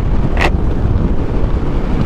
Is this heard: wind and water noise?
yes